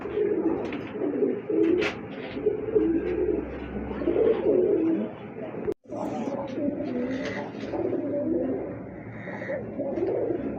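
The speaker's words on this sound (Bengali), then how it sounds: "এটা রাজশাহী গিরিবাজ কবুতর, খুবই সুন্দর" Rajshahi Giribaz pigeons cooing steadily and close up for about ten seconds, a dense, continuous stream of low murmuring coos with a brief break partway through.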